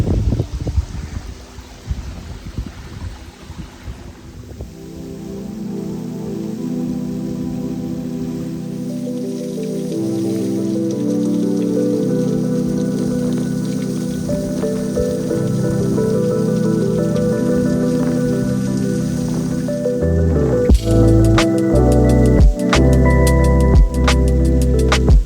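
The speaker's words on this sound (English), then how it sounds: "the waterfall is flowing so kind of weakly right now. The wind is just blowing it all over the place." A weakly flowing waterfall, its spray scattered by gusting wind on an icy, snowy cliff, gives a steady close hiss like pattering rain, with a sharper clattering burst near the end.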